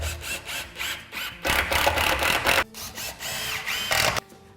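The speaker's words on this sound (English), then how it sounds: "We're going to be piloting the timber in order not to split the timber when screwing it," A power drill drives screws through timber while a stud wall is built, several loud bursts of whirring with short pauses between, close and alone.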